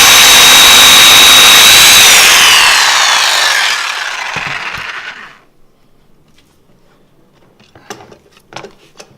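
A jigsaw cuts through timber with a loud, close buzzing roar that runs for about four seconds. It winds down and stops, leaving faint knocks and handling sounds afterward.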